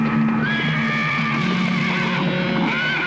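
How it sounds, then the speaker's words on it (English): A horse lets out a loud, drawn-out neigh with a wavering pitch while it rears in alarm, amid hoof clatter and dense background noise, with no talking. "Patterson's horse reared, throwing him."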